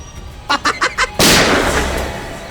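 Four quick sharp bangs in a rapid burst, followed by a louder, sustained blast of broadband noise that slowly fades.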